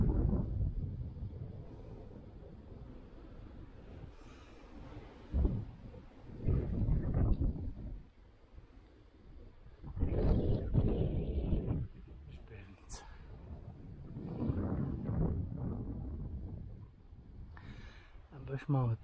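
Bora wind on the 1014 m summit of Žbevnica in the Ćićarija range buffets the microphone in repeated low, rumbling gusts, swelling and easing between stretches of people talking nearby.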